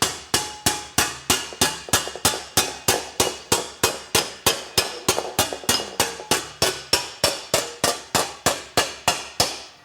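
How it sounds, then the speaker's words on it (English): A lightweight low-crown hammer taps sheet metal down over the edge of a post dolly while shaping a gas tank, roughly thirty sharp ringing metallic strikes in a fast, even rhythm, close and loud with no talk. "We're going to position the metal on the post dolly so it overhangs just a small amount and tap it down"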